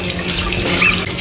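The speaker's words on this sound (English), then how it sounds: "The water fountain." Water fountain trickling in a quiet interior, a steady soft splashing wash running alone throughout with no talk.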